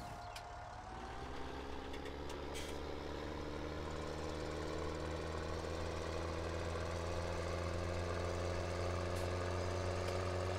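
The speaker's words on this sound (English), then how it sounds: "let's get the other tractor off the field here as well" Tractor engine from the farming game Farming Simulator 17, idling and running steadily with a low, continuous drone and harmonic hum throughout, close and fairly loud with no talk over it.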